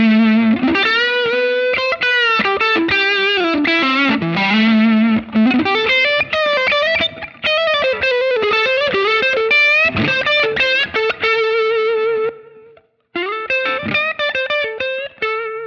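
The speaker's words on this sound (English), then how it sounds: "crank the levels so it hits the front end of the amp harder and actually breaks it up more like a boost" Electric guitar lead through an amp pushed into breakup by an Ampeg Opto Comp on a Line 6 Helix, loud and continuous with distorted, sustained melodic notes and bends, brief gaps near the end, no talking.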